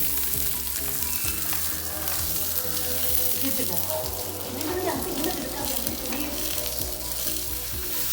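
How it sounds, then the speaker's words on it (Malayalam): Karimeen (pearl spot fish) wrapped in banana leaf fries in a Kerala-style pan over a medium flame, with a loud, continuous sizzle and crackle throughout and a faint tonal background beneath. "നമുക്ക് നമ്മുടെ വാഴയിലയിൽ വെച്ചിട്ടുള്ള കരിമീൻ അതിലേക്ക് ഇറക്കി വെച്ച് നമുക്കൊന്ന് മീഡിയം ഫ്ലെയിമിലിട്ടൊന്ന് തിരിച്ച് മറിച്ചൊന്ന് കുക്ക് ചെയ്തെടുക്കാം"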